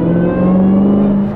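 A new 800-horsepower supercharged car, still being run in, accelerates as its compressor engages, producing a loud, steady engine drone with a sustained whine that holds close and unbroken throughout.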